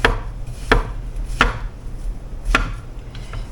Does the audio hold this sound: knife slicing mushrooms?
yes